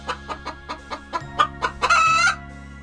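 A hen clucks in a quick series of short, sharp, evenly spaced calls, then gives a longer, drawn-out squawk near the end. The sound is close and clear, with no talking.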